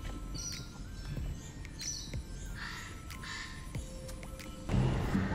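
Birds at Bird Paradise Singapore give scattered chirps and short squawks, fairly faint and close by, against a soft background murmur of the park.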